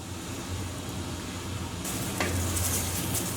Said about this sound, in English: And just on a medium heat we're going to add our onions straight in.